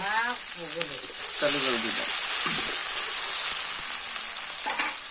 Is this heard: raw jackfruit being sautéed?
yes